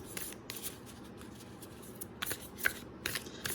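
Tarot cards being shuffled by hand: several quick papery riffles and snaps in short bursts, close and fairly soft, with quiet gaps between.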